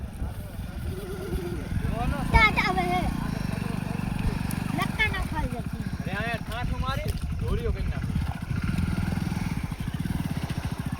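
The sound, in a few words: motorcycle riding off-road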